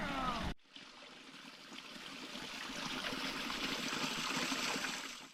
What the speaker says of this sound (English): there's our little waterfall that we didn't notice till after we moved here